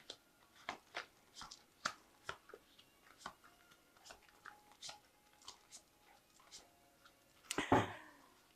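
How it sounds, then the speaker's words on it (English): Soft, irregular snaps and riffles of a tarot deck being shuffled, fairly quiet and close, ending with a louder burst as the deck is cut. "So I have shuffled this deck. I'm just going to cut it."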